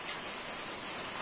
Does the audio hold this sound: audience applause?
no